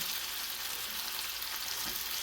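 Pheasant back mushrooms frying in a pan as their liquid cooks off, a dense, even sizzle held close and steady without pause.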